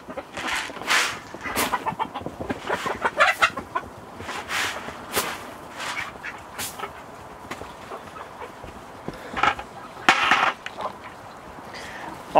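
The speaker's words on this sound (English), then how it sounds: "All the chickens are getting along wonderfully." Several chickens cluck and squawk close by in irregular bursts, some louder calls standing out among softer clucking chatter.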